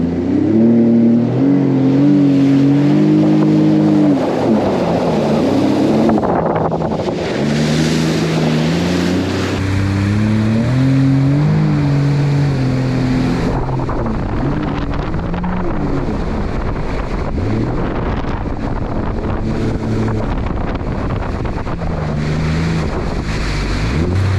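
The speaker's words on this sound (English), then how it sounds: "The throttle response in sport mode is like instantaneous. It just pops you out of the water." A Sea-Doo FishPro 170 personal watercraft goes to full throttle in sport mode on open water. The engine roars loud and close, rising and shifting in pitch as the craft accelerates, with steady wind buffeting and spray throughout.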